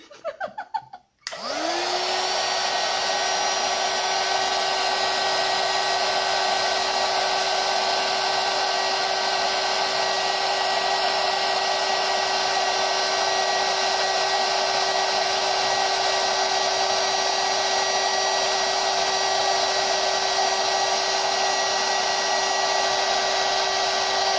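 A heat embossing tool starts up and blows a steady, loud whirring hum with a fixed whine as it melts glitter embossing powder on a card, continuing unchanged for over twenty seconds without talk.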